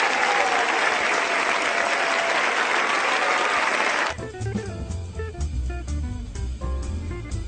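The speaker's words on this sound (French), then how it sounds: "On l'applaudit très fort." A studio audience applauds loudly and steadily for about four seconds before cutting off abruptly into music and background sound.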